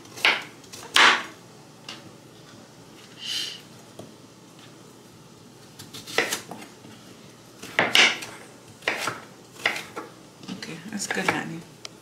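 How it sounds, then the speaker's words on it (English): Knife chopping vegetables into small wedges on a board for a vegetable soup, a few clustered cutting strokes with pauses between bursts, close and moderately loud, no talking. "I'm gonna cut them in small wedges like this."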